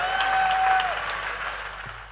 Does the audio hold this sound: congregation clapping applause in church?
yes